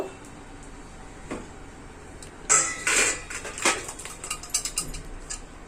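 A cooking pot clanks and rattles as boiled taro greens are poured off and drained in a home kitchen; a faint tap early, then a cluster of close metallic knocks and scrapes with no talk.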